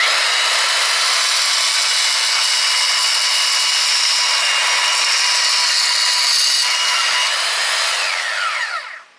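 Harbor Freight Bauer portable band saw cutting a small piece of metal, a loud steady grinding whine that runs nearly unbroken before tapering off abruptly at the end.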